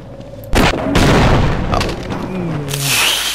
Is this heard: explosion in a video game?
yes